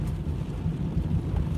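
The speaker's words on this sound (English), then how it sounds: "it started raining an hour after I got to school, and it's been nonstop" Steady rain pours outside a school on a cold day, a continuous low hiss and patter with gusty rumbles, heard alone with no talking.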